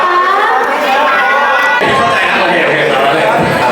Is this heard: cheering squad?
yes